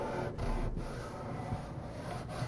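A rag rubs and wipes paint back on a small stop-motion set piece. A few soft, brief scrubbing strokes sit over a low, quiet background. No speech.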